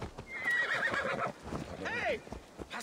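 A horse neighs in the video game Assassin's Creed Valhalla, a close, shrill whinny with a falling second call, over hoof clip-clop and game ambience.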